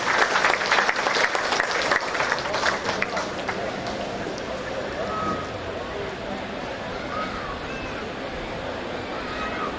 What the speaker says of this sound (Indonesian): Boleh kita beri tepuk tangan yang meriah sekali lagi, Bapak Ibu.